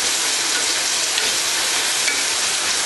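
Onions frying in a pan for a sun-dried tomato pasta sizzle with a dense, steady, close crackle and hiss that never pauses, with no talking.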